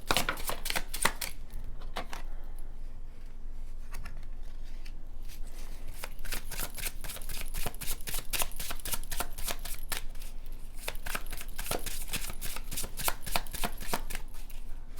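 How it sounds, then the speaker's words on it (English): A deck of tarot cards being shuffled by hand, with rapid crisp riffling and snapping bursts repeating close up for the whole stretch, with no talking. "I stopped shuffling."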